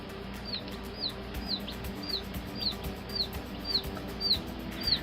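Baby chicks chirp repeatedly in a quick, regular series of high peeps, close and fairly loud over a low background hum, with no speech.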